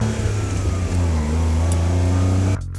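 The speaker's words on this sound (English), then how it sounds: "the Honda Beat is for you. A K car with the same formula as the first gen NSX, with a mid-mounted 3-cylinder and a soundtrack" A Honda Beat kei car's mid-mounted three-cylinder engine revs hard, a loud, steady buzzing drone held close for over two seconds before cutting off abruptly.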